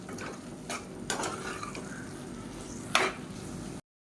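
Masala and tomatoes are stirred in a pan, a spoon scraping with short clattering strokes and one sharper clink near the end, over a faint background sizzle.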